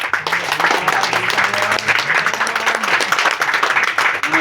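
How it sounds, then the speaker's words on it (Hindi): A crowd gives loud, sustained applause for a performer, with dense clapping throughout and voices murmuring underneath. "दीपक जी के लिए जोरदार तालियां हो जाए प्लीज।"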